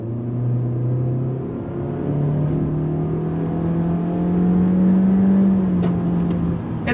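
A 2023 Honda Accord LX's 1.5-liter turbocharged engine steadily builds revs under throttle at about 18 mph, a smooth rising drone that swells and holds, with no voices.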